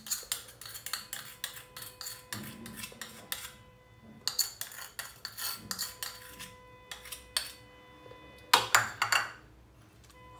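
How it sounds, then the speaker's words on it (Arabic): A spoon scrapes and clinks against a bowl while almond cookie dough is stirred with powdered sugar, mastic, honey and butter, giving close, irregular metallic ticks and scrapes in uneven bursts, with no talking. "غنحركو بعدا نخلطو مزيان"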